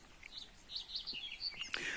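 Small birds chirp and tweet in short, scattered calls over quiet outdoor background noise at Sazlıbosna Dam in Istanbul, faint and somewhat distant.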